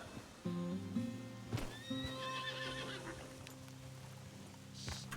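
A horse in Red Dead Redemption 2 whinnies loudly up close, followed by a few hoof clops and snorts, with a quieter ambient bed behind and no speech.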